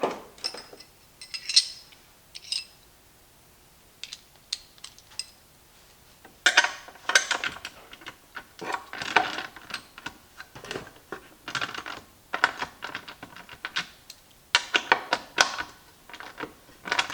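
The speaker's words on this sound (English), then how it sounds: "A couple wrenches. That is 9/16, 9/16." Pair of 9/16 wrenches tightening the base bolts of an air hose reel, with close, irregular metallic clicks, taps and rattles in quick bursts with short pauses in between, and no talk.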